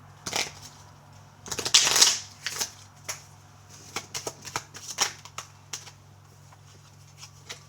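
Tarot cards shuffled and drawn one by one, with a cluster of crisp riffling snaps and scattered soft flicks and taps, close and fairly quiet, with no talking.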